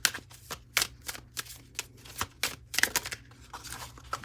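Tarot cards being drawn and shuffled from a deck during a Sagittarius relationship reading, a string of close, crisp papery flicks and snaps in an irregular rhythm with no talking.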